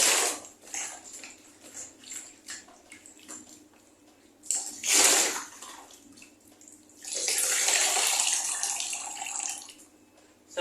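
Water splashing and running while a curly wig is rinsed in a basin, with uneven bursts of swishing and pouring and a longer steady pour near the end, with no speech.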